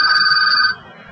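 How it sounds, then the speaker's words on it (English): A telephone ringtone sounds in a short, loud, steady electronic tone during a live web development session, then cuts off abruptly, leaving quiet background. "Your telephone is ringing, unfortunately."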